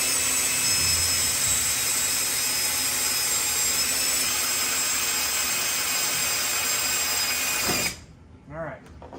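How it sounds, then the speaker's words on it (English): A loud, steady whine of a power drill drilling out a rivet hole, running continuously for several seconds, then cutting off abruptly, followed by brief quiet handling sounds. "So yeah, let's drill it out,"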